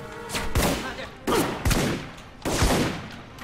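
Shotgun blasts from a fully upgraded, high-damage shotgun in the video game Alpha Protocol, four loud, sharp booming shots in an uneven rhythm, each followed by a brief echoing tail.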